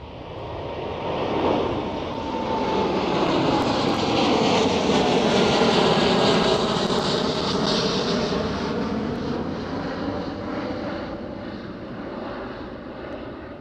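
A fixed-wing airplane flies past near Schiphol airport in Amsterdam, its broad jet roar swelling loudly, holding, then slowly fading as the pitch sweeps downward. No voices are heard.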